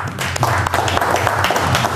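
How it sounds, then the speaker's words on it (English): Steady applause from an audience, a dense even wash of clapping with no pauses. "Give him a round of applause."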